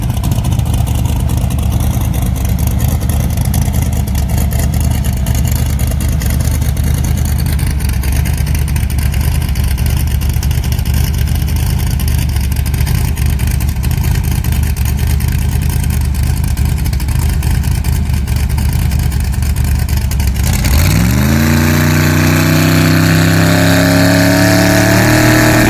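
A drag racing car making over 2,000 horsepower, testing at Sydney Dragway, roars at a loud sustained pitch for a long pass, then drops off and rises through several shifting tones near the end, with no talking.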